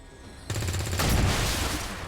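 Gunfire in the video game XCOM 2 (Long War 2 mod) arrives as a sudden loud burst followed by a heavier blast that rings on and fades slowly, with no talk over it.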